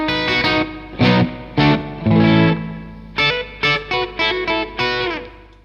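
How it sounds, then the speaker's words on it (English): Electric guitar plays short chords and notes soaked in splashy spring reverb, each strum ringing and bouncing, loud and close. "Here's the sort of spring reverb sound."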